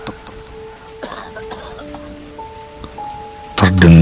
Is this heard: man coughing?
yes